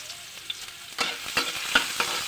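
Ginger hits hot oil in a pan and sizzles steadily, with a few sharp stirring scrapes and clicks over the frying, close and moderately loud, no voices.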